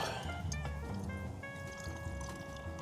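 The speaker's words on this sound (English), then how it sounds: "Just gonna pour off this fat into a cup." Bacon fat pours and trickles steadily from a pan into a cup, with small drips and splashes, close and fairly quiet, over a low background hum.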